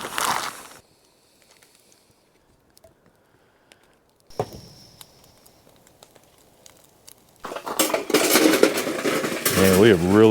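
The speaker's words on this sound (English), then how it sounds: "I just want to tenderize them a little bit because this is a little bit cheaper cut of steak" Marinated steak, a cheaper cut, gets tenderized in a pan at a campsite, with clinks and taps of metal on the pan, a long quiet pause, then louder rattling and clattering.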